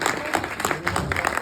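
Audience applause at an acting masterclass, a steady patter of clapping lasting the full moment with some voices mixed in.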